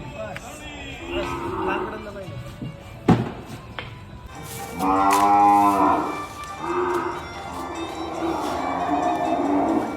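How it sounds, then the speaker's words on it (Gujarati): Several cows moo loudly and close, with long drawn-out calls in the middle and again toward the end, while a person talks nearby; cattle waiting to be fed sweet laddoos. "ગાયનો અવાજ સાંભળી લો"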